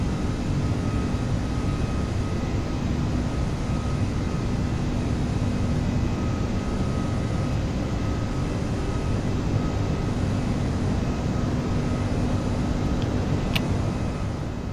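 An Aerosoft Airbus A330 flies in a flight simulator in poor weather, its engines and wind giving a loud, steady cockpit drone that holds evenly throughout, with a brief faint click near the end.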